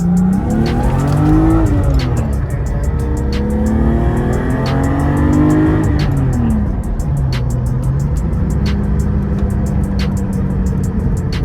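A 1997 BMW M3 engine revs hard and drops repeatedly through gear changes, rising and falling pitch, loud and close with tire noise throughout.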